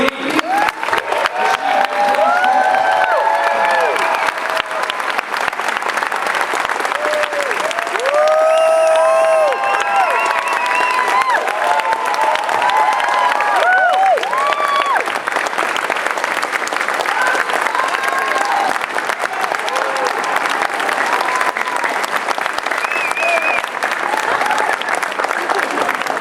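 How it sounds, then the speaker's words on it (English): Audience at a comic convention panel with Teenage Mutant Ninja Turtles voice actors breaking into loud, sustained applause with scattered cheers and shouts, continuous clapping close and full for the whole stretch. "A big round of applause"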